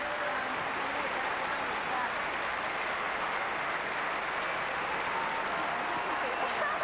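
Crowd in an auditorium applauding the Ontario and Nova Scotia curling teams at a 2003 Scott Tournament of Hearts draw, a continuous even wash of clapping with a commentator talking over it.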